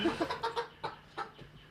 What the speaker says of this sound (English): there are a bunch of chickens